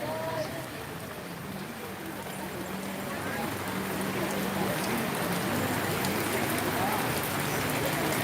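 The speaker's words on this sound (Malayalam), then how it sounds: "നല്ല മഴയാണ് അടിപൊളി മഴയാണ് വരുന്നത്" Heavy rain pours down steadily during a festival visit, a dense, continuous hiss of drops close by that grows slightly louder over the stretch, with no clear breaks.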